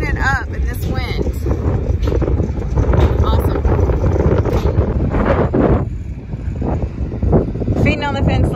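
Strong wind buffets the microphone outdoors on a flooded farm, a constant loud rushing roar with gusts, while a person talks over it throughout.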